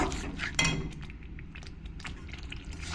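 A spoon stirs pomfret in a mustard-paste curry after sugar is added, scraping and tapping the pan with soft, irregular metallic clinks at close range.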